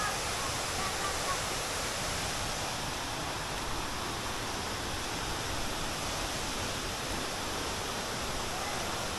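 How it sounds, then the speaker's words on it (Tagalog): Waterfall on a trail in Luisiana, Laguna, heard as a steady broadband rushing roar that stays constant and fairly soft. "Ayan ang falls"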